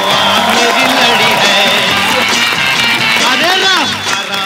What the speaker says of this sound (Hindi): श्रेयास के लिए एक बार जोरदार तालियां